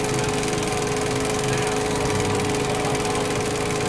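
A small engine revs hard with the throttle opened up, a loud, steady, buzzing drone held close by for the whole stretch with no pauses.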